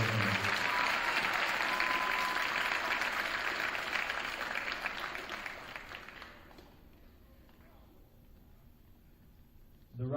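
Applause from an audience at a high school winter athletic awards ceremony for award winners: loud, dense clapping that holds for several seconds, then fades away to near silence before a brief burst at the end.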